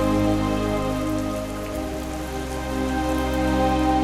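Steady rain pouring down during a storm, a dense continuous hiss, loud and close with a constant low rumble beneath.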